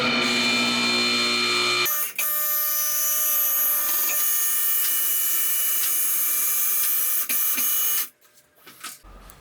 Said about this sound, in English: Let's get this thing up on the lift and get started.